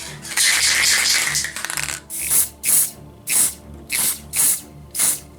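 Spray paint hisses in one long burst, then in a series of short, evenly spaced light puffs over a Warhammer miniature, close and fairly loud, with no talking.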